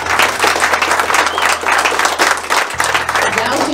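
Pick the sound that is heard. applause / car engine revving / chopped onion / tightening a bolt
applause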